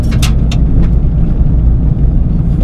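A Ford Fiesta ST drives along a road, its engine and road noise forming a steady, loud low rumble throughout, with a few brief higher bursts near the start.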